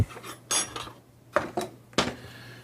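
An avocado seed is dropped into a kitchen bowl, giving a few sharp hard clunks and clinks spread over a couple of seconds, close and distinct against a quiet background.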